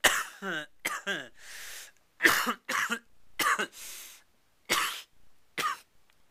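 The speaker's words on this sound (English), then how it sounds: "I've got a bit of a cough" A person coughs repeatedly in short bursts, several harsh coughs and throat-clearing sounds spaced irregularly, close up with no speech.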